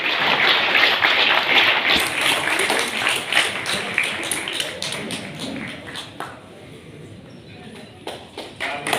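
Applause at a community gathering in India, loud dense clapping at first that thins into scattered separate claps and taps, with voices talking underneath.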